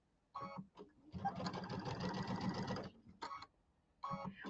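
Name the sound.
sewing machine stitching a quarter-inch seam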